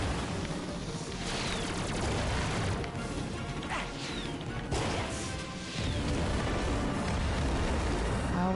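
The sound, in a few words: explosion in video game Ratchet and Clank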